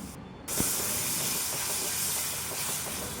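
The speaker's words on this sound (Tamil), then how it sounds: "கூடவே நம்ம அரைச்சி வச்ச தக்காளி இப்போ சேர்த்துக்கலாம்" Ground tomato added to a hot pan of spices, including turmeric and garam masala, for pea kurma, bursts into a loud, steady sizzle that starts abruptly and hisses on without a break.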